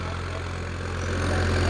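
A Farmtrac 60 Powermax tractor ploughs a wet, slippery field at around 1800 rpm, its engine making a low, steady throbbing drone that swells slightly louder toward the end.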